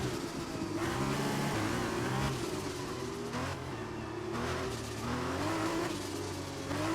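A race car engine in the video game F1 2021 revs and shifts continuously, its pitch rising and falling, with brief dump valve clunks as gears change, steady and fairly loud.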